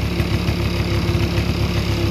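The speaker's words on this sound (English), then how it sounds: "Engine's not broken in yet. This is the first run really of this engine." An EME120 model engine fitted with JMB Brecka canisters and headers, on its very first run and not yet broken in, drones steadily and loudly up close with a rough, even buzz throughout.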